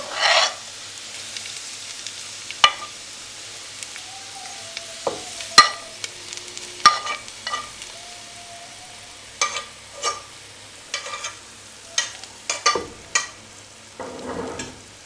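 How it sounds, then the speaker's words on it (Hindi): Browned fried onions in hot fat are poured over beef haleem as a tempering, a brief hiss at the start followed by a mostly quiet stretch punctuated by scattered clinks, scrapes and short sizzling bursts of stirring. "अब इसका हम बघार लगाएंगे।"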